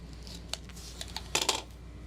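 Scissors cutting fabric pieces for a sling bag, a few faint snips and then two louder crisp scissor cuts close by, with no talking.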